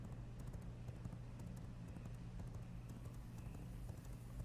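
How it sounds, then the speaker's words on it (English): Horse hooves clip-clop at a steady trot in the video game V Rising, a faint rhythmic patter over a low rumbling game backdrop. "Here's a horse."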